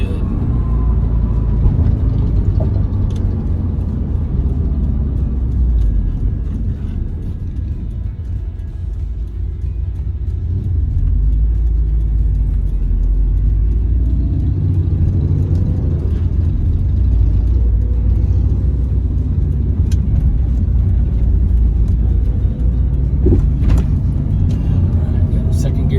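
A 2010 Subaru Impreza STI wagon with a six-speed manual accelerates through second and third gear, a steady low engine rumble and road noise heard from inside the cabin, loud and continuous.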